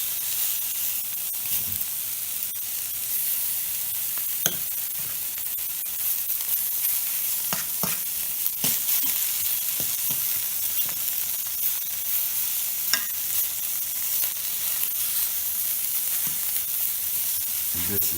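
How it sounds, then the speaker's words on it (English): Spanish octopus frying in a hot pan, giving a steady bright sizzle and hiss throughout with scattered sharp pops and spatters, close and loud, with no talking. "So that's how you cook the Spanish octopus"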